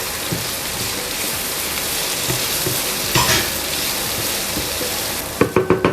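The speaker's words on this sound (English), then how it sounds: "So while the onions are sauteing, I'll be adding curry leaves and slit green chilies." Onions sautéing with curry leaves and slit green chilies for a Kerala fish biryani, a steady loud sizzle with occasional stirring scrapes and a few spoon taps at the end, no talking.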